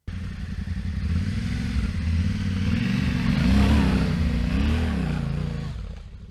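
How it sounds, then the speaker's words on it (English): An adventure motorcycle climbing a short, steep off-road hill from a standstill, its engine droning loud and close, rising into a hard rev that peaks midway and eases off toward the end, with faint clatter. "here I give the biggest acceleration possible until this point when the front wheel is already up"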